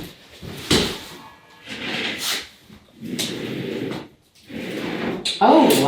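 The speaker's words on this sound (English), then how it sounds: "this is how far out the drawer slides come" Large drawers on full-extension slides in a lofted bed built inside a shipping container are pulled out and pushed in, giving several loud rolling, sliding rumbles with brief pauses and a sharp knock near the end.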